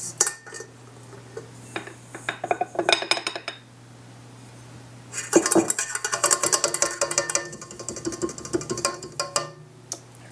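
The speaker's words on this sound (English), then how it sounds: "So I'm just going to stir this" A strawberry mixture is stirred in a bowl with a utensil, giving irregular scraping clinks and knocks against the dish in two bursts with a pause between, close and fairly loud over a faint steady hum.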